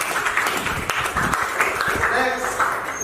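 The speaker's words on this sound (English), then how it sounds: "Give applause, please." A classroom full of students claps in a short burst of scattered applause, with voices chattering underneath.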